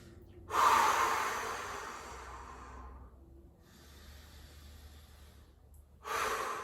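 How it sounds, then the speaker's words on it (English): Heavy, close breathing from someone balancing on one foot during a balance exercise: a long loud exhale that trails off, a quieter stretch, then another strong breath starting at the end. "2 more breaths here"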